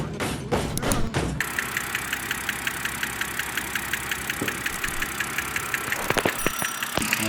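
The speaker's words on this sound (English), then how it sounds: "all of a sudden I have a lifter tick" A car engine idles steadily with a fast, regular metallic ticking from a stuck lifter riding on top. A few loud thumps and handling knocks come at the start and again near the end, heard up close.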